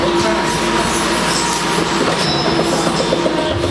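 Universal Studios backlot tour tram rolling along, a steady loud rumble with rattling wheels and faint squeals throughout, with no talk over it.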